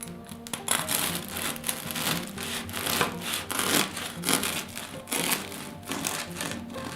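Sourdough loaf being sliced open with a knife, a steady sawing crunch through crisp golden crust repeating in quick close strokes, with no talking.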